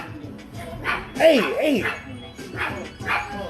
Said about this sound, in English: shut up all that goddamn barking,